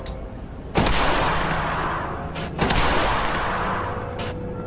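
Two loud, close large-caliber gunshots, about two seconds apart, each fired into a gelatin test block with an implant inside, and each followed by a long fading boom and reverberation.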